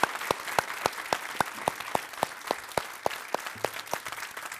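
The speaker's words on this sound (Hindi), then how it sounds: "वासन साहब, तालियों के साथ अभिजीत अय्यर मित्रा, दोनों का जबरदस्त स्वागत है।" Studio audience applause welcoming guests on a televised Hindi cricket debate show, with crisp, rhythmic close claps standing out over a steady background of clapping from the crowd.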